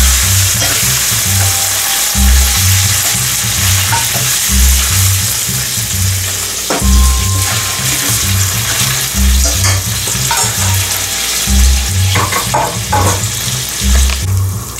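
Gizzard frying in oil with tomato paste on low heat, a loud steady sizzle with occasional stirring clatter and a low rhythmic background pulse, no voices.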